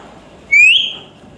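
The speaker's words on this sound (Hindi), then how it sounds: "बजाओ सीटी बजाओ, और तेज।" A talking parrot gives a single short, loud whistle that rises and then falls. It is close and clear against a quiet room.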